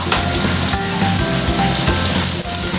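A spoonful of cumin seeds sizzles loudly in hot oil in a pan, a dense, steady crackle that stays close and continuous with no talking over it.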